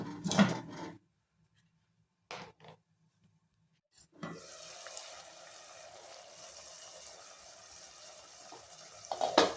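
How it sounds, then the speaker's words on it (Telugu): Water pours into a cooking pot of pumpkin and onion pieces for sambar, a steady running splash lasting several seconds after a few brief clinks and knocks. "ఇందులో చిన్న కప్పు వాటర్ వేసుకోవాలి"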